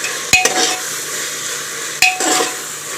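Onion and ginger-garlic paste for a quick veg biryani stirred and sautéed in a pan, a steady close sizzle with two sharp utensil knocks against the pot.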